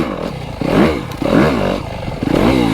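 A 2025 Yamaha YZ250FX off-road dirt bike engine revs close by in three rising and falling bursts, loud and raspy, with clattering mixed in and no talking.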